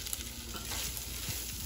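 Chicken mixed with two tablespoons of flour sizzles and is stirred in a pan over medium heat, a close, steady frying hiss with soft scraping.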